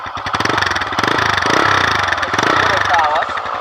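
A TVS motorcycle engine running with a rapid, throbbing pulse at close range, steady and fairly loud, while someone talks over it.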